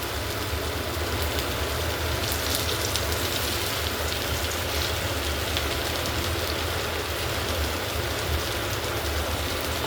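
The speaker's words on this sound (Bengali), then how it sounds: "মাছ আগে ভাজি হইতেছে, কড়া করে ভাইজা তারপরে সবজি দিব" Fish fries until crisp in pure mustard oil in a home kitchen, giving a dense, steady sizzle that crackles evenly from start to finish, with no talk.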